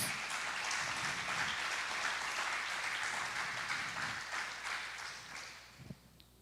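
A church congregation applauds in a steady dense wash of many hands that tapers off toward the end.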